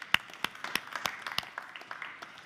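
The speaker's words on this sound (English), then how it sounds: "So please give them all a round of applause." A small audience at a panel event on ocean philanthropy gives a brief round of applause: sparse, irregular claps of moderate loudness that thin out over a couple of seconds, with no voices over them.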